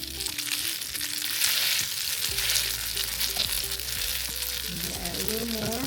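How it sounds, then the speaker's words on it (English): Chicken Caesar salad waffle sandwich frying on a hot grill, a steady loud sizzle running throughout with faint scraping near the end. "And then I'm going to put it on the grill."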